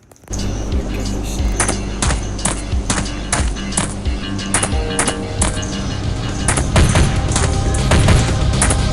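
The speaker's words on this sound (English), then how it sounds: "shots fired, shots fired. I need backup, shots fired." An M16 fires in a police simulator video game: a long string of sharp, loud single shots at uneven intervals, some close together, over a steady background with a voice underneath.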